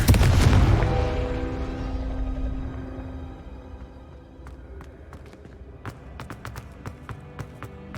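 A Confringo fire spell from Hogwarts Legacy bursts with a loud, booming blast right at the start and then rumbles away over a few seconds. Sharp clicks and taps scatter through the quieter tail.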